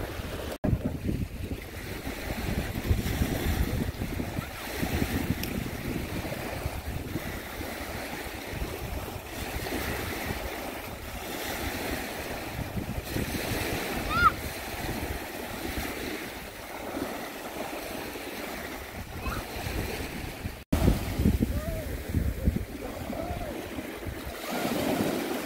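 Waves wash in continuously at a quiet beach on a wet day, with steady wind buffeting the microphone and occasional louder gusts throughout.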